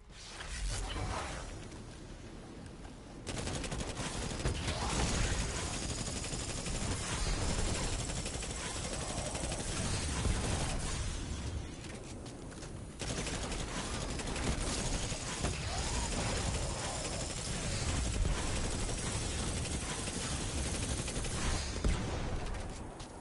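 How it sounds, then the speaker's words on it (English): Sustained automatic gunfire from an auto rifle in the shooter game Destiny 2, firing in long dense bursts with brief pauses around the three- and thirteen-second marks, loud and close amid game effects. "Auto rifle."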